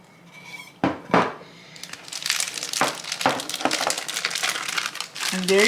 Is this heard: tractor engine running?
no